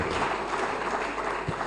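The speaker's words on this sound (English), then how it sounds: "Another round of applause for Dr." An audience at a university of medical sciences event applauds in a steady, dense wash of clapping, loud and close, with no voices over it.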